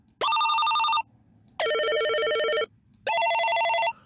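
Synthesized telephone ring patched on a modular synth: three bright, buzzy ringing bursts of about a second each, separated by short pauses, loud and close, with the pitch shifting between bursts.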